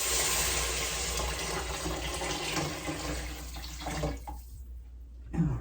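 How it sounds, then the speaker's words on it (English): Five cups of cold water poured into a soup pot, a steady close rushing stream that thins out near the end, with no talking over it. "we need to add 5 cups of cold water"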